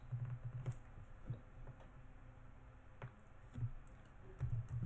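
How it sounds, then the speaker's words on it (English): Typing on a computer keyboard, soft rapid key clicks in short irregular bursts, faint and close, with no voices. "Let's type cryptocurrencies."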